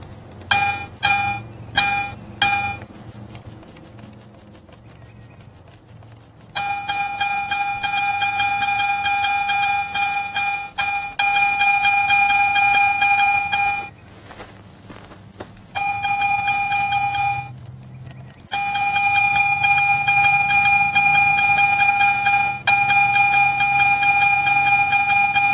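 A Garrett metal detector gives several short beeps, then longer sustained electronic tones. The tones break off and return as the coil sweeps back and forth over a buried target, loud and close with no voices.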